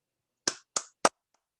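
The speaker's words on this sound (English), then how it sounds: "let's give Kondo Sensei a nice round of applause." Three sharp, separate claps spaced evenly in near silence during an online gathering, crisp and close with a faint fourth tap after.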